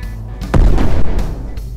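Tank tearing apart under heavy fire in the Brick Rigs building game: a deep booming crash swells mid-clip over a low rumble, then fades back into steady rumbling.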